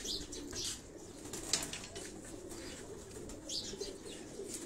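Trained flying pigeons kept in a rooftop cage in Karachi coo softly and steadily, faint and close, with light wing flutters and chirps mixed in.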